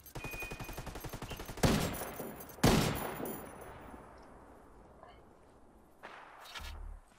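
A few sharp, booming gunshots in Ghost Recon Wildlands ring out at irregular intervals, each followed by a rumbling decay, over quiet background sound.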